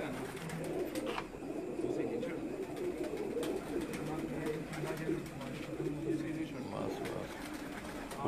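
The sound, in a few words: breeder pigeons cooing on a rooftop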